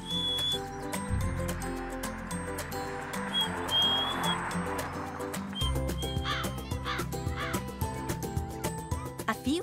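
Several crows caw in short bursts against a busy background of music and other birdsong, fairly close and clear.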